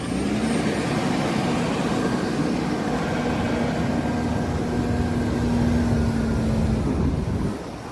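A farm loader works through a Fenland yard filling trailers, a steady loud engine drone with a sustained hum that holds for about seven seconds before easing off at the end.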